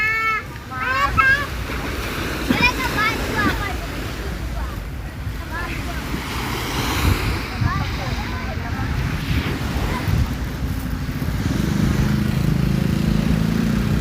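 Surf washes steadily onto Bang Saen beach in Thailand, with gusty wind rumbling on the microphone. Voices talk over the earlier part, and the roar of the waves swells louder toward the end.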